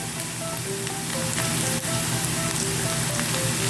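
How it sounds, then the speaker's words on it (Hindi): Half a teaspoon of cumin seeds roast in hot ghee for methi aloo with a continuous, close crackling sizzle that stays even and loud throughout. "इसको हल्का सा रोस्ट कर लेंगे इसके अंदर, ताकि ज़ीरे का जो है फ्लेवर घी के अंदर आ जाए"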